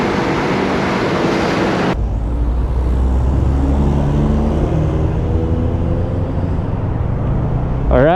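A Bristol Assassin R400 motorcycle engine runs smoothly and steadily, a low, even drone with some wind rush that continues without break through the whole stretch.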